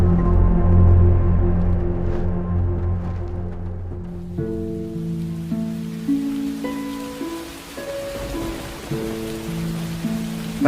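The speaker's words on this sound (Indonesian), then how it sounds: "Hujan." Rain falling in a steady hiss in a Makassar film scene, heard under sustained music tones, with no talking.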